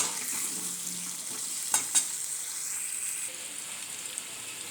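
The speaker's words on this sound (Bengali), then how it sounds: "আলুটা এখন আমি ভালো করে ভেজে নেব।" Potato pieces seasoned with turmeric and salt fry in a pan with a soft, steady sizzle at moderate distance. Two brief clinks of a utensil cut through near the middle.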